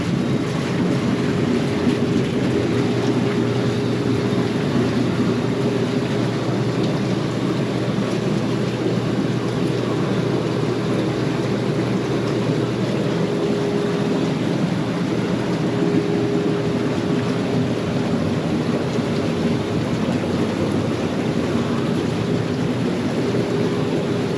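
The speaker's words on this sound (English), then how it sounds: "And this is the blower with the big bubbles" A jacuzzi blower forces big bubbles through the water, making a loud, constant rushing and churning roar that stays steady throughout with no pauses.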